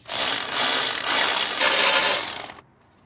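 A ratchet wrench loosening a 12mm bolt on a Toyota Camry 2.2L AC compressor, giving a fast, continuous close-up clicking whir for over two seconds before stopping abruptly.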